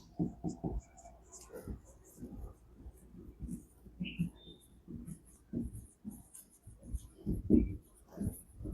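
Pen or chalk strokes during a maths lesson on whole-number multiplication, a run of short scratchy marks in uneven bursts, close and fairly quiet, with someone speaking in between.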